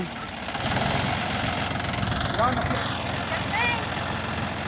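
A John Deere 5045D tractor engine runs steadily at a throaty mid-pitched idle with a knocking rumble while it is used to push over trees, and people talk over the noise.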